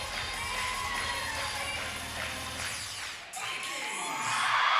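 A crowd cheers and shouts at a cheerleading championship as a JV team finishes a pyramid routine, a steady wash of whoops and yells that dips briefly and then swells louder toward the end, with an announcer's voice mixed in.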